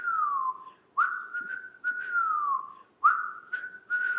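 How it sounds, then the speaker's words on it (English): A person whistles a simple phrase over and over during a guided breathing practice: clear, close tones that glide and dip, in bursts of about a second with short pauses for breath. "Whistle."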